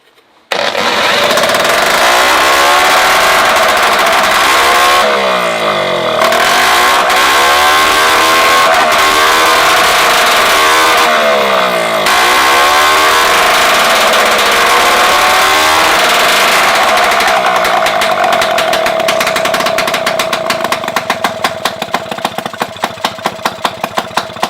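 A Peugeot 3008 engine cranks and fires up in a workshop, then runs loudly and close with revving swells that rise and fall, settling toward a rough, pulsing idle near the end.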